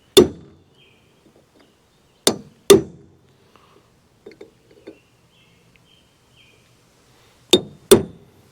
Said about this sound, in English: I'm going to center punch the bolt to the steel here.